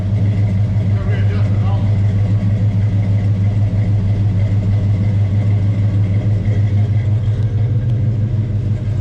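Chevelle with a 402 big block runs steadily on a dyno, a loud continuous low engine rumble holding near idle throughout with faint voices beneath.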